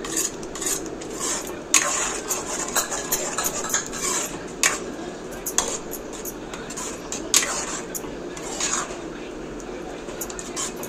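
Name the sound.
mixing methi mudda pappu with a spoon in a pot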